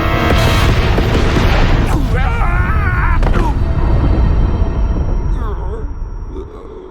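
A missile launch and explosion in an animated Sonic episode, a loud booming roar that fills the clip and slowly fades, with shouting voices over it.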